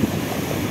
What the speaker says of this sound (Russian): какие волны